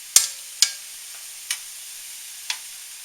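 Shrimp frying in a pan after being turned, with a faint steady sizzle broken by a few sharp clicks and pops, two close together at the start and two more spaced out later.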